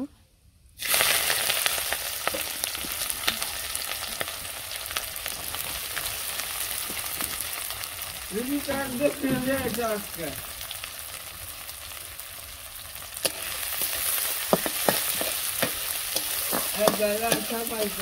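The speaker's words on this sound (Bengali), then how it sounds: "তো আমার তেলটা গরম হয়ে গেছিল, আমি রাঁধুনি সবজিটা সব কিছু দিয়ে দিচ্ছি, পেঁয়াজ দিয়ে দিব।" Vegetables and onion frying in hot oil, a steady loud sizzle that begins abruptly and carries on throughout, with scraping stir sounds and brief squeaky utensil scrapes over the crackle.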